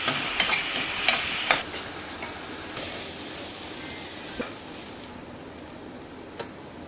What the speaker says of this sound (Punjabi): ਪਿਆਜ਼ਾਂ ਨੂੰ ਹੁਣ ਆਪਾਂ ਥੋੜੀ ਦੇਰ ਵਾਸਤੇ ਆਪਾਂ ਭੁੰਨ ਲਵਾਂਗੇ